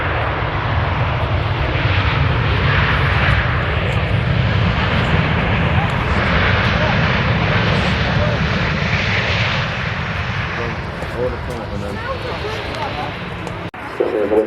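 A Pegasus jet airliner roars loudly and steadily at Manchester Airport at sunset, with wind buffeting the microphone and a voice talking over the engine noise.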